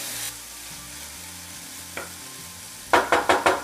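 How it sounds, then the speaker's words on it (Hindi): Onion and tomato frying in a pan are stirred, with a soft sizzle underneath and a quick run of four scraping strokes near the end. "अब इसमें हम टमाटर डाल देते हैं, इसको भी एक मिनट चला लेते हैं इसमें मिला के"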